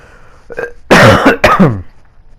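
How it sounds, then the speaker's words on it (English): A person coughs harshly a couple of times after a short throat-clearing, loud and close to the microphone. "I need to cough"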